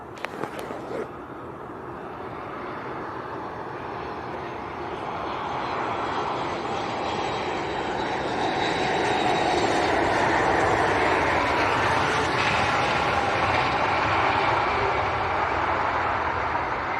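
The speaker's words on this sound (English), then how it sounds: "next inbound is on short finals. Will be Ryanair from Dublin" A Ryanair Boeing 737 Max 8 on short final from Dublin into Leeds Bradford Airport gives a steady, moderately loud engine roar that swells gradually and holds, heard alone after a brief knock at the start.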